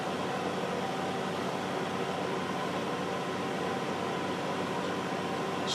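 An R739 model crane, freshly modified, runs smoothly with a steady, even mechanical hum and whir that holds constant throughout, with no knocks or changes in pace.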